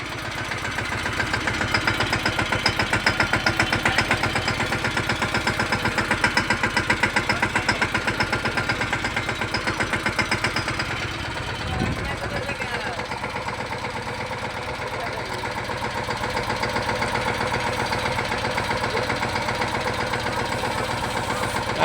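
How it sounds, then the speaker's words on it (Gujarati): A tractor engine running through a long stretch while onions from the farm are loaded: a steady, mid-pitched idling chug with a knocking pulse, briefly dipping near the middle before resuming, with no clear talk. "આ ટ્રેક્ટરે નાખીને ભરીએ છીએ"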